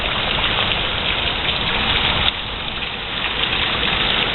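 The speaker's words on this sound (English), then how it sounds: "This is now the second day of straight rain." Heavy, continuous rain pours down during a tropical storm in Florida, a dense, steady hiss of drops hitting surfaces with a brief dip midway, no voices.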